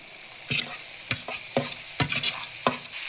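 Spatula strokes through soaked flattened rice (avalakki) in a pan, five or six distinct scraping swishes at a steady pace over a gentle frying hiss, close up with no voices.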